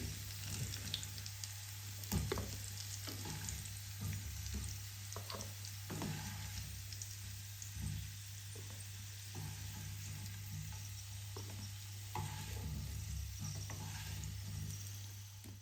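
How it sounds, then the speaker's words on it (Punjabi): Potatoes frying in a pan for several minutes for a dum aloo curry, a steady close sizzle with soft bubbling and occasional stirring clicks, no voices. "ਆਲੂ ਨੂੰ ਆਪਾਂ 5-6 ਮਿੰਟ ਲਈ ਫਰਾਈ ਕਰ ਲਿਆ"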